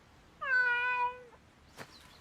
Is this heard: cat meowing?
yes